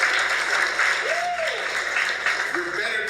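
A comedy show audience claps in a steady, moderately loud wash, with a short vocal sound rising over the applause partway through.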